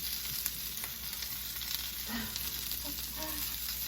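Coconut shrimp frying in a pan, a continuous crackling sizzle with scattered pops and a few soft utensil clicks, fairly quiet and without talk.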